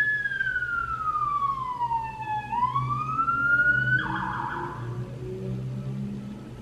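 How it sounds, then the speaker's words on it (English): A police car siren passes outside, its wailing tone sliding down and then rising again before a short yelp, loud over steady background traffic rumble. "As soon as I start talking, there's a cop making a bunch of noise."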